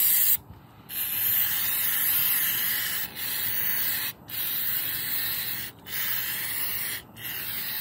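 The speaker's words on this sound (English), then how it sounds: "You spray it on the paint and wipe it off." Repeated bursts of aerosol carburetor cleaner hiss loudly and close as it is sprayed onto paint to strip it, several long sprays broken by short pauses.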